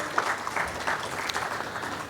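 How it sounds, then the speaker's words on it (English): An audience at a panel discussion on personal branding for lawyers applauds to welcome a speaker, a short burst of moderately quiet, steady clapping. "Please give him a round of applause"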